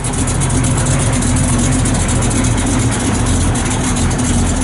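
A 1968 Chevrolet Camaro SS with a 350 V8 idles steadily through a stainless exhaust with MagnaFlow mufflers, a loud, close, continuous low rumble with an even throb and no pauses.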